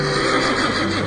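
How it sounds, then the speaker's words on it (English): A horse named Bucephalus gives one loud, sustained neigh that fills the whole moment, close and continuous with no gaps or talking. "there came a day when Philonicus the Thessalian brought Philip a horse named Bucephalus, which he offered to sell for 13 talents."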